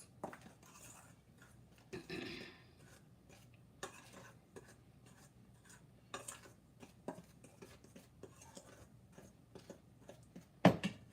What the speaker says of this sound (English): Just giving the dry ingredients a mix.